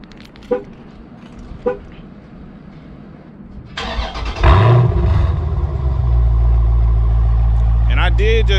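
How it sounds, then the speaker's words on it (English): A Dodge Challenger or Charger Scat Pack engine cranks and fires up, then settles into a loud, deep, rumbling idle with a raspy exhaust note from a mid-muffler delete, close by, with brief clicks before. "This is mid muffler delete right here."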